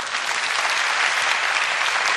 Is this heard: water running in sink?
no